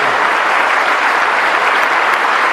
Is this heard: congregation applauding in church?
yes